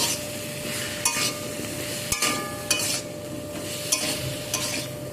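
A mustard spice paste being stirred into a light drumstick curry, giving a steady sizzle with a few sharp utensil scrapes and knocks against the pot at close range, and no talking.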